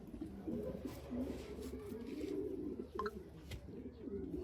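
Low, throaty cooing from a large-winged breeding pigeon at a loft rolls on continuously, close by, with faint background noise and a few soft higher chirps.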